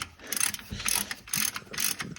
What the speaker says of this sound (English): just put my ratchet back on it and tighten it back up